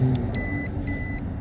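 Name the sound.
beeps from RC car speed controller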